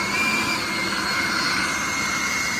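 An RC model airplane flies past with a steady, high whining motor drone, loud and constant without breaks, no voices over it.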